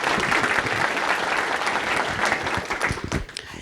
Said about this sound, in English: Let's give Gadsden State a round of applause.